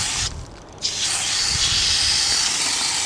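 A Chameleon or Chapin garden hose sprayer sends out a steady wide spray of water, a continuous close hiss that dips briefly near the start and then holds even.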